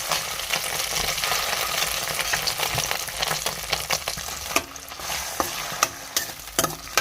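Soaked sago stirred and fried in ghee in a pan, with a steady close sizzle broken by scraping spatula strokes and small clicks against the pan.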